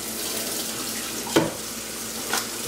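Cold tap water runs steadily into a container for chilling salmon fillets, a constant faint hiss with two brief splashy bursts along the way.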